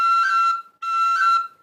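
Irish whistle playing two short second-octave notes, each with a quick cut at the start. The tones are bright, clear and close, separated by a brief gap, with no talking.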